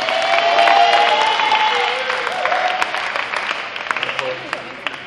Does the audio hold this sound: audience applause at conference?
yes